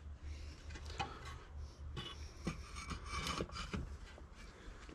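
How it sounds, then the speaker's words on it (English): Piece of 4x1 timber sliding and scraping against the propeller of a Mariner 20hp outboard motor, a close rough rubbing with irregular knocks and scuffs, low in level and steady throughout. "I'm gonna slide it up the back here and rest it on the prop."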